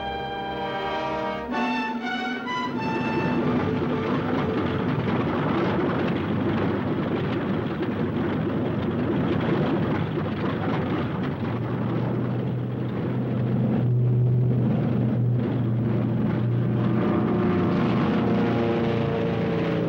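Second World War propeller planes, American aircraft returning from a carrier battle, drone steadily with a loud, dense engine roar that holds throughout, rising slightly toward the end, with no talk.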